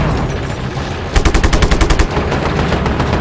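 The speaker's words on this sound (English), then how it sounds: "Bring out the machine gun." A machine gun fires a rapid burst of around a dozen evenly spaced shots in the video game Just Cause 3, loud and close over dense, constant battle noise.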